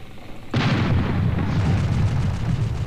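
Cannon firing in the Air Buccaneers video game: a sudden loud boom followed by a sustained rumbling roar that continues through the rest of the moment, with no voices.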